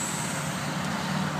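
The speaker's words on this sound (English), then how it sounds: "As you can tell, we're near the interstate because you can hear the truck noises in the background." Steady truck traffic from a nearby interstate, a continuous broadband rumble and road hiss heard from a short distance, with no voices.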